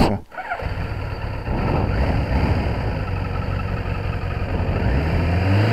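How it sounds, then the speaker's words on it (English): A Kawasaki GPZ900 motorcycle engine runs on choke at high revs, a loud, steady rough drone up close after a brief start, holding a raised idle throughout. "there's it on choke, typical Kawasaki choke, revs up, gives itself a massive bit of revs"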